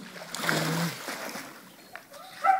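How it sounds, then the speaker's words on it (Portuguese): Water splashes and churns as people jump into a swimming pool, a burst of splashing followed by lapping and dripping, with a few small splashes toward the end. "Olha a água que levantou da piscina."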